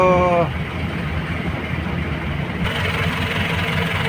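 Jeepney diesel engine with a Power Up fuel combustor idling steadily, a low even rumble after a short opening tone, heard from nearby without talking.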